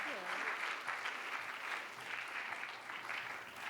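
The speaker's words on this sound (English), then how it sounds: "Please join me in a round of applause for Beth Sampson." A school audience applauds Beth Sampson at Fremd Writers Week, a fairly soft, steady wash of many hands clapping from across a room that holds evenly for a few seconds.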